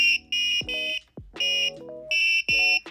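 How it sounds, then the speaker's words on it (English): Electronic buzzer on a Raspberry Pi-programmed robot playing a simple tune: bright, harsh square-wave tones in repeating phrases, with short gaps and a few sliding pitch drops between them. "run it again so you can hear the crappy buzzer music"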